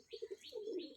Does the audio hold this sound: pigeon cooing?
yes